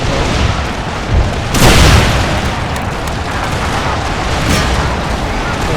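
Cannon booms and musket gunfire from the video game Empire: Total War sound as a dense, loud wall of battle noise, with a heavy blast near the middle and continuous crackling volleys.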